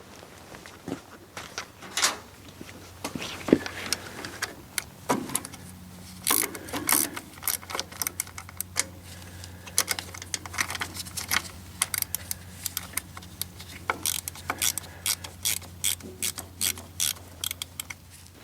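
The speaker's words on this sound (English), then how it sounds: "Grab the wrench, bolt it on" A wrench tightens a bolt on the battery of a Kubota G5200 tractor, with rapid metallic ratcheting clicks in bursts, close and crisp, separated by brief pauses and small handling clatters.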